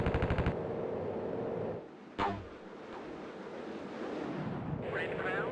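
Aircraft cannon fire in the Strike Fighters 2 flight sim during a strafing run on a ground target at Gila Bend: a loud rapid burst at the start, then a second short burst under a steady engine and wind rush, with a voice speaking.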